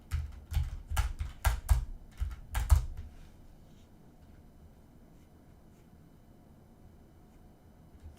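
Commands are typed on a computer keyboard during a coding session: a brisk burst of close, crisp key clicks for about three seconds, then quiet room hiss.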